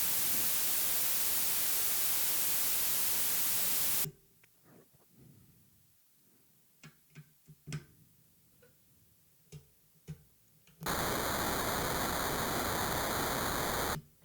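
Static white noise from an Empress ZOIA Euroburo synth module, a loud steady hiss that cuts to quiet clicks and ticks, then returns as a loud noise burst with faint tonal bands.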